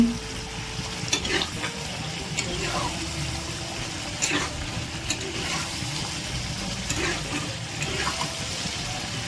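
A spoon stirs turmeric powder into chicken curry frying in a pan, a continuous wet sizzle and scraping with repeated stirring strokes, close and fairly loud.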